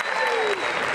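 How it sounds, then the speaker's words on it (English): Audience applause at the South African climbing national championships lead finals, a short burst of dense clapping from the crowd, loud and steady with a voice speaking over it. "one last big round of applause for the live streaming crew"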